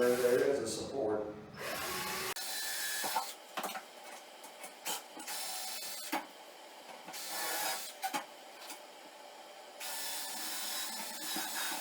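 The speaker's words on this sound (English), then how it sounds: "this drill set up with a small bit with a countersink, and I'll just countersink holes in the top" A power drill with a small countersink bit boring holes in wooden trim lumber, heard as short whirring bursts separated by pauses, preceded by a brief stretch of talking.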